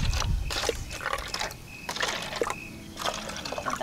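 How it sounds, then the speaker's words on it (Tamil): Water splashes and trickles as it is poured into a drink, in several short gurgling bursts with brief pauses, close up and without speech. "தண்ணி ரொம்ப கூட ஊற்றுறேன்"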